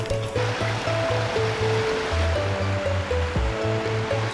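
A waterfall on a Himalayan trek in Nepal rushes in a steady, loud broadband roar, with a person talking briefly over it.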